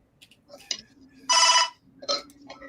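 A telephone rings in a home, one loud sustained burst of ringing with shorter tonal bursts before and after, close by, with a voice talking faintly in the background.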